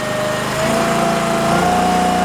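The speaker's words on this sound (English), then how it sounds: "We already know it's warm, but we'll ramp it up nice and easy." An Eastonmade Axis vertical log splitter's small engine, already warm, revving up steadily at close range, a loud continuous drone whose pitch climbs smoothly over a couple of seconds.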